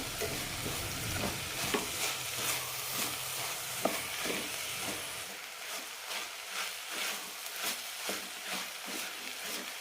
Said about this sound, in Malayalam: ഇനി എല്ലാം കൂടി നന്നായി ഒന്ന് റോസ്റ്റ് ചെയ്തെടുക്കാം.